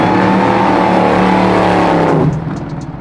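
A Hellcat-swapped Plymouth Cuda pro-touring car accelerates hard nearby, its engine roar rising with a climbing supercharger whine before it fades away.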